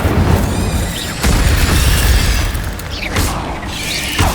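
Loud fiery blast of the Incendio spell in Hogwarts Legacy, a roaring whooshing burst with crackling noise and a second surge partway through, close and dense.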